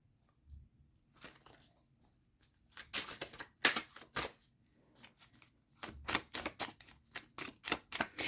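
A deck of cards is riffled and shuffled in repeated quick bursts, crisp and close, with brief pauses between shuffles.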